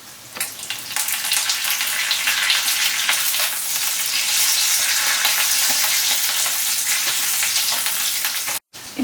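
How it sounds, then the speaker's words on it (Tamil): Curry leaves hit hot oil while egg fried rice is being made, Sri Lankan style, setting off a loud, bright crackling sizzle that swells and holds, and then cuts out abruptly near the end. "இப்போ கருவேப்பிலை கொஞ்சம் சேர்த்துக்கிறோம்"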